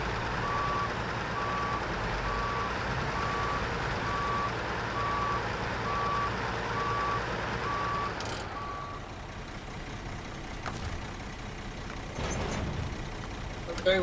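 A truck backing up sounds its reversing alarm, a steady run of evenly spaced beeps for about eight seconds before stopping, over a low engine rumble and air-brake hiss.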